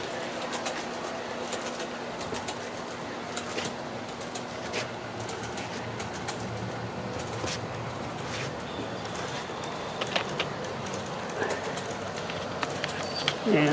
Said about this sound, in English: And here comes the train around the viaduct.